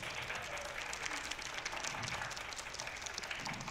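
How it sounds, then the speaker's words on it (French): An audience at a mock historical trial on conscription applauds steadily, a soft, fairly distant patter of many hands continuing evenly without a break. "Applaudissons-les avec toute la vigueur de vos appuis."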